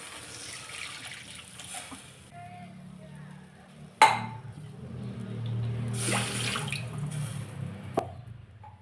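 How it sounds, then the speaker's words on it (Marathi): Water poured into a pan of spiced curry base with red chilli powder, a soft trickling splash under a low cooking background, with two sharp clinks of a utensil against the pan. "आता यामध्ये पाणी घालायचं"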